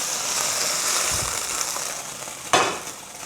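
Beef for a stir fry fries in a hot pan with a loud, steady hiss, broken by a sharp clatter and sizzle burst as the meat is tossed late on, with no talking.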